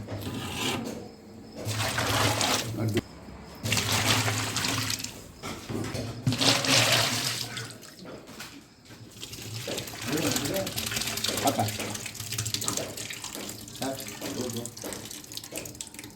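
Five litres of water gush into a large pot for a 100 kg mutton biryani cooked at a wedding function, a loud, near, splashing pour that runs on and off while people talk over it.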